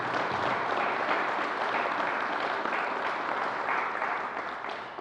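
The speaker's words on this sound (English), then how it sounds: "So let's give him another round of applause." Sustained audience applause at a coronavirus briefing in Buffalo, dense clapping filling the hall for several seconds before beginning to taper off.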